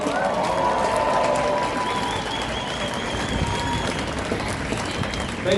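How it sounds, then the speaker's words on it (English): Crowd at an outdoor Palestinian solidarity rally and march in Auckland claps and cheers steadily and loudly throughout, with whoops and shouts rising over dense applause. "One more cheer for John"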